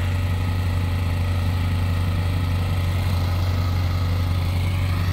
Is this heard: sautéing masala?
no